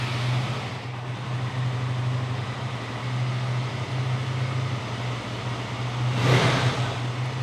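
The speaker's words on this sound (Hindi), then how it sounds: "अभी करते हैं बाइक को स्टार्ट।" A BS6 motorcycle engine runs at a steady idle with a constant low hum, rising briefly in a louder burst near the end.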